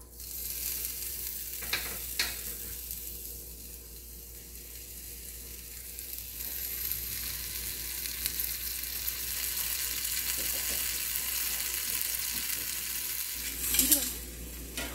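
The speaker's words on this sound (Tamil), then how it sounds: "கல் நல்லா சூடாகிட்டு இது வைக்கும்போது பார்த்தீங்கன்னா அந்த சத்தம் கேட்குறது, அந்த சிசிலிங் சவுண்ட்" Vegetables sizzle steadily on a very hot barbecue griddle stone, a continuous close frying hiss that runs throughout and swells briefly near the end.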